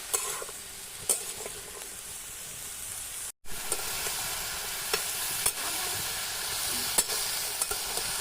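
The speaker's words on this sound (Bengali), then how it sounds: "খুব ভালোভাবে এটা ভেজে নেব তেলে।" Spinach fries in oil in a pan with a steady, fairly quiet sizzle, broken by occasional stirring scrapes and a brief gap partway through.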